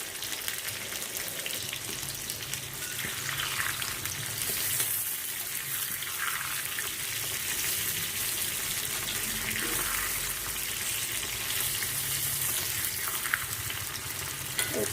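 Potato and pointed gourd pieces fry in oil, a continuous close sizzle with occasional stirring scrapes and faint watery sounds running underneath, and no one speaking.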